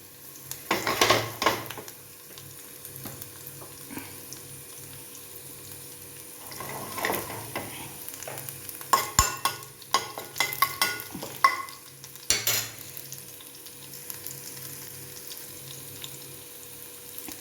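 Vegetables stirred and fried in a pan for a clove bean dish, a low steady sizzle broken by irregular scrapes and clinks of a spoon against the pan, fairly close and with no talking.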